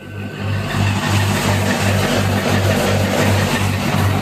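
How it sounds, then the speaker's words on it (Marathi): A tractor-driven Deepak Uchana thresher runs steadily at close range while threshing half-wet, half-dry soybeans, its loud continuous engine drone pulsing in a regular rhythm. "14-15 आरपीएम वरती ट्रॅक्टर चालू आहे।"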